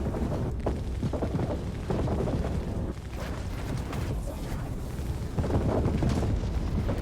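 Ship weapons in Star Citizen fire on a Gladius fighter during a weapons test aboard an Origin M80, a run of booming shots and rumbling impacts that swell and ease across the stretch with no speech.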